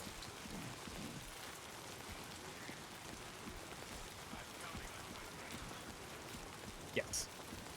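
Steady rain falls in the Death Stranding 2 video game, a soft continuous patter with scattered drops and a brief faint chirp near the end.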